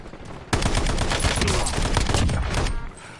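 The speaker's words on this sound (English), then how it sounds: "Sniper's still shooting at me, I think." Gunfire in the Warzone video game, a dense sustained volley of sharp cracking shots, loud and close, lasting a few seconds before tapering off.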